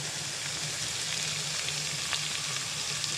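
Tomato and green chili paste frying with garlic-ginger paste in a pan, a steady, dense sizzle like light rain, close and even, with faint occasional clicks and no voices.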